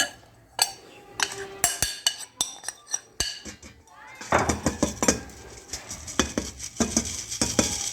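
Red velvet cake batter being mixed in a bowl, with a run of clinks and scrapes of a utensil against the bowl, sparse at first and then faster and busier, close and fairly loud.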